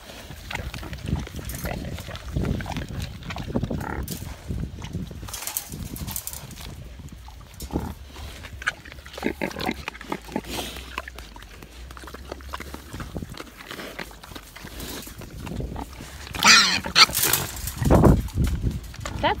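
Wild hogs grunt and snuffle close by in irregular bursts, joined by scuffling footsteps and a louder grunting flurry near the end, with people talking intermittently over them.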